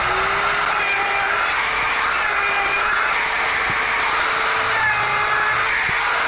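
A power tool fitted with a 1/2 inch bit shapes a wooden handle for a Silky saw blade. It gives a steady, continuous high-pitched whir with slight changes in pitch as it cuts.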